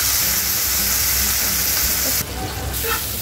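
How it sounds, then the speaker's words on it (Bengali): Mola fish heads frying in hot oil in a frying pan, a loud dense close sizzle that runs continuously and then drops slightly as it continues. "এবার মাছের মাথাগুলোকে আমি ফ্রাই প্যানের ভিতরে দিয়ে দিচ্ছি, তেলটি গরম হতে হবে"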